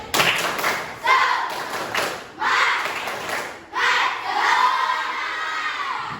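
A school class does a rhythmic group clap cheer, the pupils clapping together in several loud, evenly spaced bursts mixed with children's voices chanting.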